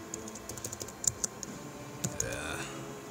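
Quick, light keystroke clicks on a computer keyboard come in an uneven burst of a dozen or so taps, close and soft, with a short pause midway.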